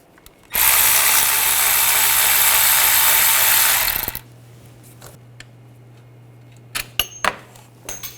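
A 16mm socket driven by a power tool removes a bolt on a 2006-2010 BMW 550i, a loud sustained whirring burst of about three and a half seconds, then a low hum with a few scattered metallic clicks and knocks.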